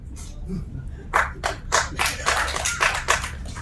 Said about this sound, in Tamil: இப்படி ஒருத்தர் 2 பேர் கைதட்டுறீங்கல்ல